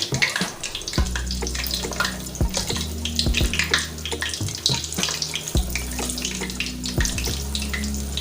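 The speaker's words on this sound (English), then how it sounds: "I'll be adding the beans batter into the oil" Bean batter drops into hot oil and fries with a loud, continuous bubbling hiss and crackle, close up and steady, with no speech.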